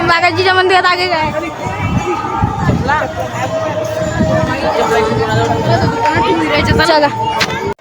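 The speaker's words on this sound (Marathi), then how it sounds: "गर्दी पण खूप आहे." Dense hubbub of a large crowd at a temple during a palkhi procession, many voices overlapping in continuous loud babble with close talk and shouts rising above it throughout.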